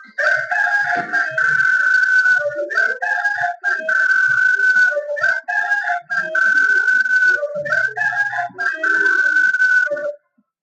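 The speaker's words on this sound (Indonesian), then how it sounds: "Ayam jago segera melompat dan berkokok." A rooster crows loudly and close by in a series of long, drawn-out calls, about half a dozen crows in succession with a few clucks in between and no talking.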